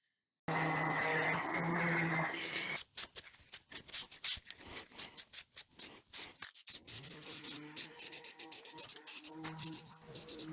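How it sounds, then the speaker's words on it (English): Scrap-wood cookbook holder pieces being sanded by hand, a steady scratchy rubbing that starts abruptly, then breaks into quick, uneven back-and-forth strokes up close. "just give everything a nice sand and a coat of stain of your choice"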